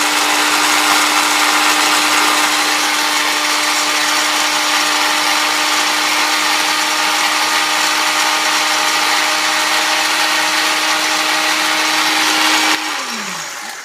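A blender runs at its high-speed liquefy setting, chopping coffee beans. It gives a loud, steady whir that holds for about thirteen seconds with no talk, then winds down sharply as it is switched off.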